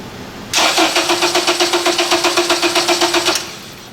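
Starter cranking steadily on an Acura TSX engine that will not fire, a fast even rhythm of about twenty turns lasting roughly three seconds, loud and close, then stopping without catching.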